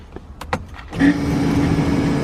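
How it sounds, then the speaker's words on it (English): Loud fuel pump of an all-wheel-drive Honda CRX kicking on after a few clicks, then a steady whining electric drone that runs continuously and close by. "fuel pump is stupid loud."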